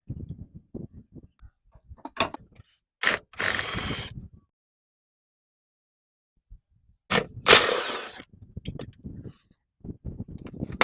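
A wrench working a bolt on the strut rod of a Nissan Frontier, with scattered close metallic clicks and two sharp ratcheting bursts separated by stretches of quiet.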